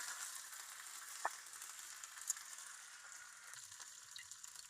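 Mustard seeds, dried chillies and curry leaves fry in hot oil, producing a faint, steady sizzle with a couple of sharp pops or crackles near the start and no talking.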